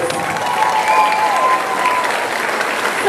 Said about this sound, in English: Let's give our top 15 another round of applause.